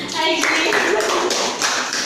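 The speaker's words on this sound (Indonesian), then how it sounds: "Beri tepuk tangan" Schoolchildren in a classroom clapping hands together during a lesson, a short burst of rhythmic claps with a voice speaking briefly at the start.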